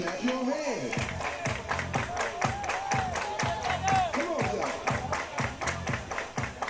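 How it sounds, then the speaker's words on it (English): Crowd at a regional high school baseball game claps in a steady, rhythmic unison beat, each clap evenly spaced, with a voice carrying over the top throughout. "Everybody clap your hands."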